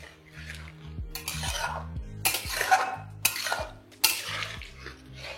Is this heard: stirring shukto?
yes